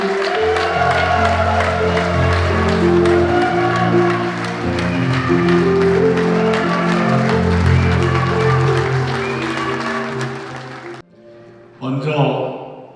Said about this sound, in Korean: 제4기 민주정부 출범에 이낙연 전 총리님을 뜨거운 박수로 모시겠습니